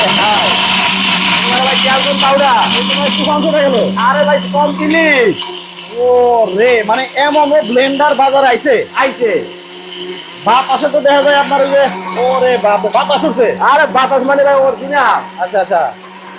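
A Panasonic blender runs with a loud, steady motor whine and rattling, audible under a person talking over it.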